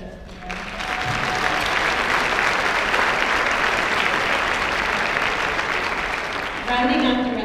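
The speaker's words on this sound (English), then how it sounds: "Round of applause, please." An audience at a charity food bank gala applauds in a sustained burst of clapping that starts just after a second and holds loud and even for about six seconds before fading, with a voice speaking faintly at the start and end.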